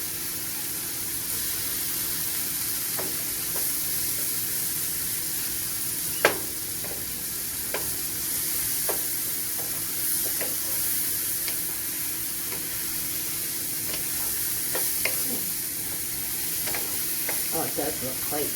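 Mushrooms sautéing in a pan on the stove, a continuous bright sizzle with scattered pops and occasional stirring clicks, close and steady throughout.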